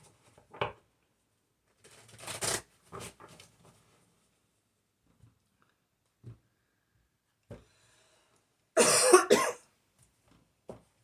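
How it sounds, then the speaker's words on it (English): Scattered coughs spaced across the quiet, a couple of harsher bursts among softer ones, with a loud rough cough near the end. "it starts making me cough"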